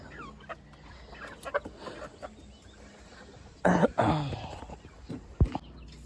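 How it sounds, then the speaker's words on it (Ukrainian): Chickens and a rooster in a poultry coop, with scattered clucks and short calls, including a louder burst of clucking near the middle, heard close by over a quiet background. "Оце, мабуть, півень."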